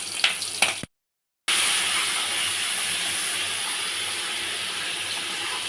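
Mustard seeds, chillies, salt and turmeric sizzle loudly and steadily in a hot pan for an Assamese fish curry, a dense hiss that cuts out briefly near the start and then resumes unbroken.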